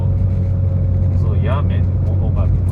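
A 1995 Porsche 993 Carrera 2 heard from inside the cabin, its engine a loud, steady low drone with road rumble while someone talks over it.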